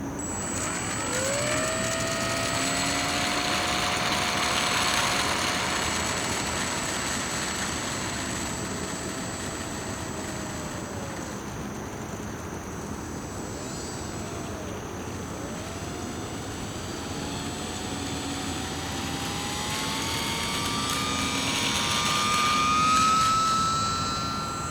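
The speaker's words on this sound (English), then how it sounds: "So check out this fun flying at the schoolyard with our original 2S Pitts." An E-flite UMX Pitts S-1S, a small 2S electric RC model biplane, flies over a schoolyard, its high motor whine rising and falling as it passes near and then far and returns, continuous with no talking.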